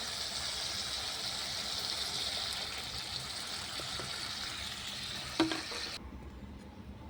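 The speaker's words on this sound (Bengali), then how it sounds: "এবার একটু পানি দিয়ে দেবো ঝোলের জন্য।" Water goes into frying spice masala with tomatoes in a pan for rohu fish curry, a steady sizzling hiss with a brief sharp splash and clatter near the end, close up.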